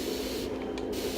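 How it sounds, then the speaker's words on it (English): Spray paint hisses from a can onto canvas in a loud, close burst, briefly pausing mid-spray before the steady hiss resumes. "Spraying more toward the center so that it'll appear that the light goes to the center."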